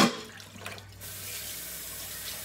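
Tap water runs steadily into and over a measuring cup being rinsed out at a sink, a continuous close hiss of splashing flow after a brief clatter at the start.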